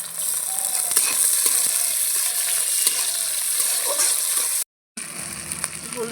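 Chopped onion and tomato frying in a pan for a Bengali fish curry, a loud close sizzle with occasional stirring clinks, briefly cut to silence near the end before the frying resumes.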